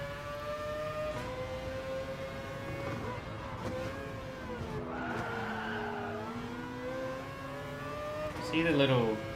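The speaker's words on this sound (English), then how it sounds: "The sound effects of being in the car sound really good" A video game car engine drones and shifts pitch as it drives at speed on PlayStation 5, with tire noise and a brief rising squeal near the end, alongside talking.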